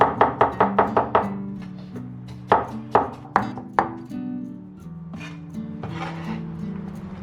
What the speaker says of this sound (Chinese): 再切一点这个马蹄哈，这个学名叫碧琪，给它切掉。